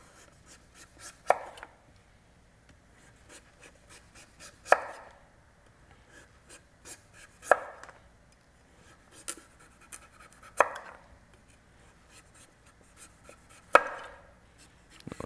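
A knife dices and slices butternut squash on a cutting board, with sharp, evenly spaced chops landing about every three seconds and soft scraping between them, close and clear with no talking.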